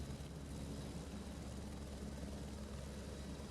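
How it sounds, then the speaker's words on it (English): A helicopter hovers in a racing game, giving a steady, loud rotor drone with a throbbing low pulse that holds constant and even throughout. "There's the helicopter. Is he just going to hover there?"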